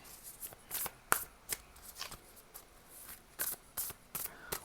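A Whispers of Love oracle card deck being shuffled by hand, with soft, close riffling and flicking bursts in an irregular rhythm and no talking.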